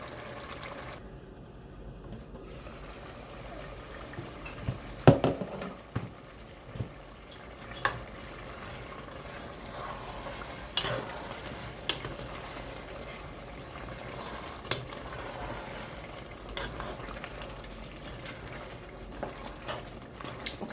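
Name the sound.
egusi soup cooking and being stirred in a pot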